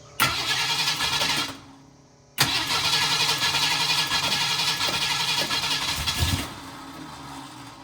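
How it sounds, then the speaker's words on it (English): A car engine cranks and catches, revs briefly and dies, then restarts after a short pause and runs at a steady, rough idle close by for several seconds before settling lower; no one speaks. "Let's see if it'll start and not backfire through the carburetor."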